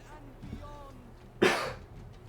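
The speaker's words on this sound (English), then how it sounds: "Excuse me, I do have a lingering cough." One sharp cough from a man with a lingering cough after an illness, a brief loud burst about midway that stands out between soft stretches of nearby talk.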